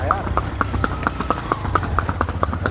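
A Sindhi mare walks with a brisk, even clip-clop of hooves, about a dozen sharp, close hoofbeats over a low rumble, with a voice faintly underneath.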